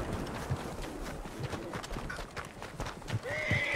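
A horse neighs and clip-clops on a town street in the Red Dead Redemption 2 video game, with a few scattered hoof hits and a high whinny near the end over busy background noise.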